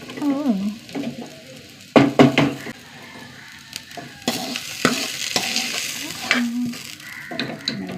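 Onions frying with curry leaves in a pan, a steady close sizzle broken by sharp wooden scraping and stirring knocks, with a few brief hums of a voice in between.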